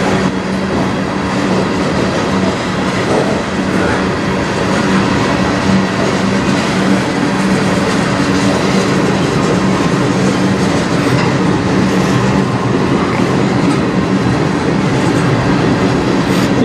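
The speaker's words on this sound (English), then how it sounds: "this is considered a regional train" A CN 400-series regional freight train rolls past on the Strathroy Subdivision in Sarnia, Ontario, a loud, steady rumble with rhythmic wheel clatter on the rails sustained for the whole stretch, with wind noise and no voices.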